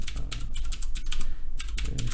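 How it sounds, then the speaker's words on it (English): Rapid, uneven clatter of keys on a computer keyboard, typed continuously and close by with brief pauses, no voices over it. "Probably hear me typing."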